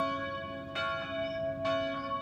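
The fate bell in the audio game Papa Sangre, a sustained ringing tone struck twice in a slow rhythm, each strike blooming then lingering, heard clearly alone.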